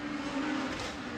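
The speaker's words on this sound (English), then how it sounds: "Brian, we've got another car going down the front straight and smoking pretty hard." A race car smoking heavily runs down the front straight at Road America during a Hoosier Super Tour race, a brief, fairly faint engine whine passing in the distance.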